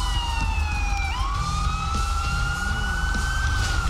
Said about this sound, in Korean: We've got an ambulance call in.